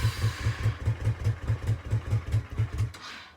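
Honda Shadow Sabre 1100 motorcycle engine running without the choke, a steady, even low thumping idle with regular pulses, close and fairly loud, no talking.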